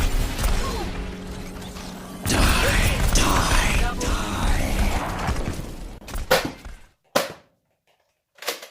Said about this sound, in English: then push the priming handle back in, which covers the loading area and readies a single shot